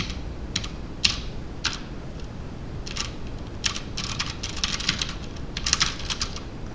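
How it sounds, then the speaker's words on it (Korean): Random keys on a computer keyboard are pressed in irregular bursts, with sharp close clicks that come singly at first and then in quicker clusters over a low background hiss. "지금 제가 키보드 방향 왼쪽 방향 키 말고 그냥 아무거나 눌러볼게요"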